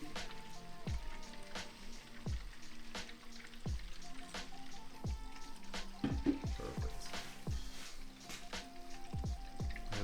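Coolant trickling and splashing into the fill port of a custom water-cooled AMD Threadripper 3990X PC loop, a steady liquid dribble with repeated small drips and gurgles running throughout, close and moderately loud.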